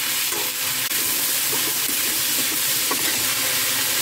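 Sautéed onion, tomato and cashews crackle in a pan while being stirred, giving a steady loud frying hiss with a few soft scrapes and clinks on top.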